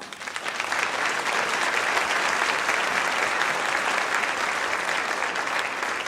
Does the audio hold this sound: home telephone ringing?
no